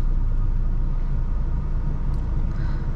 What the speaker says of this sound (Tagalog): Then napakakalmado ng makina.